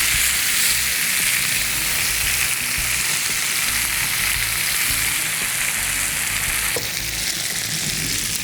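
Spicy chicken wings fry in a shallow layer of oil over fairly high heat, giving a steady, dense sizzle and crackle that carries on without a break from start to finish.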